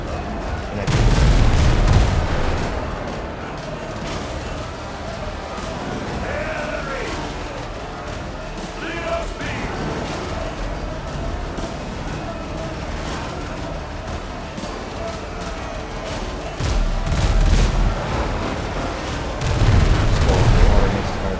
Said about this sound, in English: Unfortunately, not many of those cannons connected.